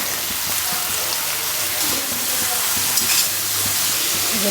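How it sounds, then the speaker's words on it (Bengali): Vegetables frying in hot melted butter in a home kitchen pan, with a dense, steady sizzle and crackle and occasional stirring scrapes, close and continuous, with no voices. "সবজিটা হচ্ছে বাটারে ভাজবো"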